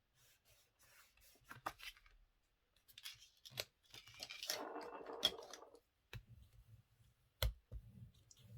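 Scissors cut paper for a handmade scrapbook album page. Faint, close snips and clicks come in irregular clusters, mixed with soft rustling and handling of the paper, with quiet pauses between.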